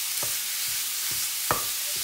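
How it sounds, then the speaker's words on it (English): Mince breaking up as it dry fries in a pan: a steady sizzle with a few short scraping stirs of a utensil, one sharper knock near the middle, close and moderately loud with no talk. "Just going to break the mince up"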